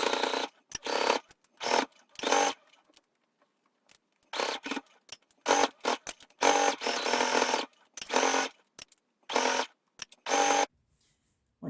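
A sewing machine stitches a seam around a neckline in short bursts, loud runs of rapid whirring separated by brief pauses, close and alone.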